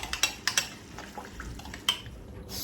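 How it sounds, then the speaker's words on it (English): Metal clinks and taps from utensils against a pan dominate the quiet kitchen, where ham and vegetable stock cubes dissolve in boiling water under a faint bubbling hiss. "This is the ham cube and the vegetable cube just dissolving in boiling water."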